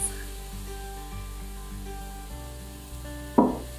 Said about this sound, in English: Now it's sizzling